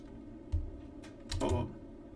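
Quiet keystrokes on a computer keyboard while configuring network routers, a few soft clicks in two small bursts, close and alone with no speech.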